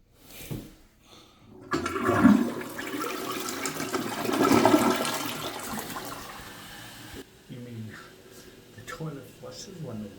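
A weak toilet flush with a fill valve being adjusted: a rushing swirl of water that builds and drains over several seconds, followed by trickling refill sounds, with someone speaking before and after.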